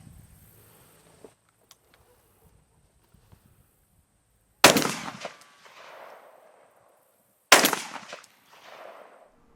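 A Mossberg 930 SPX tactical shotgun fires two loud, heavy blasts outdoors at a range, a few seconds apart. Each booming report trails into a rolling echo, with only faint small noises before the first shot.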